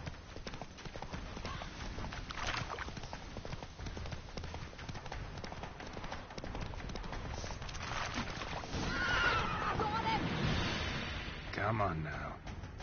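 Roach the horse gallops in The Witcher 3 with steady clip-clop hoofbeats and neighs, set among game music and battle noise, with voices speaking over parts of the run.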